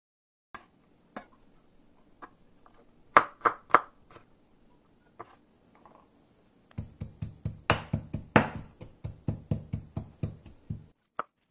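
Knife slicing a chili thinly on a cutting board while making noodle soup: scattered single taps at first, then a fast, steady run of crisp chopping strikes, close and clear with no talk.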